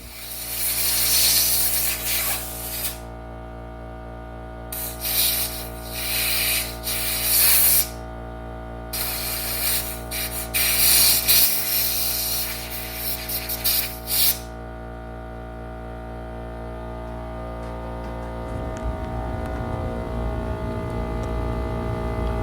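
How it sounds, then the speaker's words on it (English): Bursts of carb cleaner and compressed air hiss loudly and close against a Honda XR75 motorcycle carburetor, coming in repeated spurts over the first fifteen seconds before fading into quieter workshop hum. "A little carb cleaner and some compressed air go quite a long ways"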